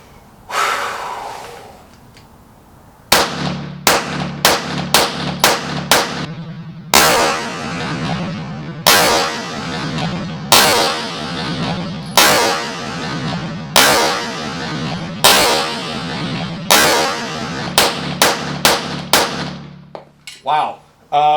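PX-4 Carry handgun fired in a series of loud, sharp pistol shots, single and in quick pairs, spaced irregularly over about seventeen seconds with breathing between strings.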